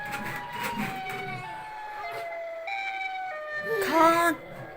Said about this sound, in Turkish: Bizim oyuncak siren kafamız gerçek olmuş Kaan